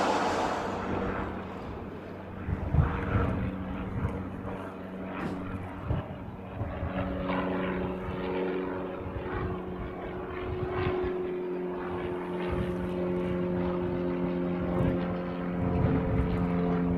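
A FedEx cargo plane runs up its engines for departure on the reef runway at a Hawaii airport, a steady distant drone with a rising tonal whine throughout, with no talking.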